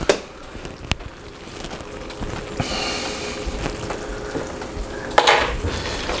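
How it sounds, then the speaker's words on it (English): A spoon stirs sour cream into baked mac and cheese, a close, wet, squelching scrape with sharp clinks against the dish at the start and near the end, no voices. "Give that a good stir."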